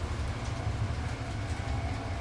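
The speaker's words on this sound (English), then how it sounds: "The train moves like a thought returning home, soft now, slow, certain." The Glacier Express rolls along its rails through the Swiss Alps with a steady low rumble and soft rhythmic rolling. The sound is close and even, with no voices.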